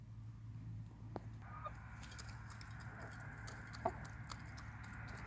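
Hens pecking and feeding on bean scraps outdoors, with soft clucks and occasional bird calls over a steady low background hum, plus a couple of brief sharp taps.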